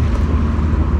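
A turbocharged Mazda MX5 engine droning loud and steady from inside the car, a low rumble with a constant roar and no pauses.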